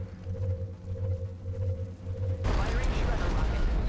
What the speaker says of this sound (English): let's start things off with a Shredder rocket from Kim